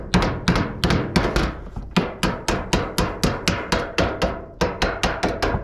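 Steady hand hammering on standing seam metal roofing, a series of about twenty sharp, evenly paced blows from a rubber or plastic faced hammer, close and loud with no talk.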